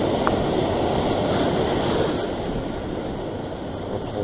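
Ocean waves wash against sea rocks on a Sydney shoreline during rock fishing, a loud, continuous rushing surge with wind noise and no talk.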